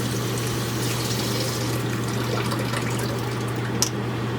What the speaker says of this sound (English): Rinse this one off.